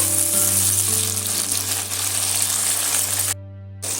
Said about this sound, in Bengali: টমেটো আর পেঁয়াজটা আমি সুন্দর করে এখানে ভেজে নেবো